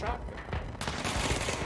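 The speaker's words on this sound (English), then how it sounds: "The shotgun." A shotgun fires in the video game Control, with sharp loud blasts in quick succession and bursts of crackling impact noise over dense combat sound.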